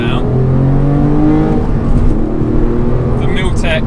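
A Porsche 996 40th Anniversary Edition with Milltek Super Cup back boxes accelerates hard in second gear, its engine note climbing steadily in pitch, loud and close, with someone talking over it.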